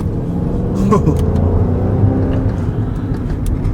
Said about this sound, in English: this V8 note is pretty good